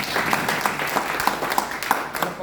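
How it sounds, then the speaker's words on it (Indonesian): Church congregation clapping during a sermon, a steady crowd applause with a few sharper individual claps standing out, moderately loud and close, no speech over it. "Beri tepuk tangan."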